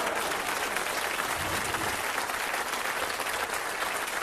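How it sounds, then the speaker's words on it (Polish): A theatre audience at a Polish stand-up comedy show applauds, a dense, steady wash of clapping that runs loud and unbroken throughout with no voices above it. "Dziękuję za szalone brawa"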